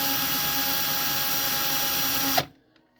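A cordless drill running off an external battery pack whirs at a steady high motor pitch, loud and close, then cuts off abruptly near the end and falls to near silence.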